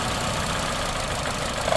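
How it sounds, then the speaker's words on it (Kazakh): A Mitsubishi Lancer engine idling roughly with its first cylinder misfiring, a close, steady low rumble with an uneven shake, loud and continuous with no talk. "3 цилиндр жұмыс жасап тұр, бірінші цилиндр жұмыс жасамай тұр дейді."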